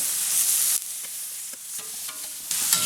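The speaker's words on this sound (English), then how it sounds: "It fries up, as you can see." Chicken pieces and haloumi cheese frying in a pan, a steady close sizzle with brief scraping stirs partway through, then the sizzle swelling louder near the end.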